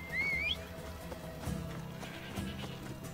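Horse in Assassin's Creed Odyssey gives a rising whinny at the start, followed by a few soft hoof clops over a steady game background hum.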